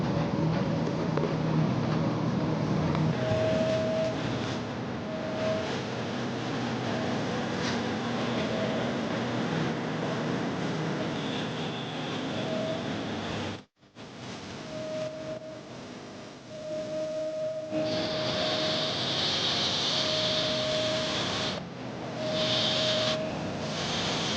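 A sandblaster fires abrasive at taped stained glass in a steady, loud rushing hiss with a faint tonal whine, cutting out briefly midway before resuming and intensifying.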